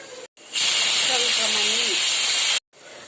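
Steam hisses loudly for about two seconds as water hits a hot pan while cooking a rice-flour breakfast snack with cumin, sesame and curry leaves. The hiss cuts in and out sharply, and a faint voice sounds underneath.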